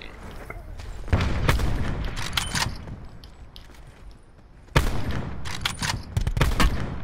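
Gunfire in the online shooter Call of Duty: Black Ops 4, heard as two loud bursts of rapid automatic shots with booming impacts, separated by a quieter stretch, played close and dense.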